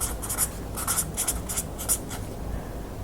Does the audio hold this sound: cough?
no